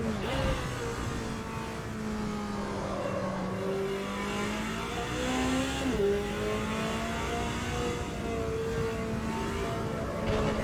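GT4 race car engine in the Automobilista 2 racing game at Road America, a steady loud drone rising and falling through gear changes and revs, continuous for the whole stretch with no talk.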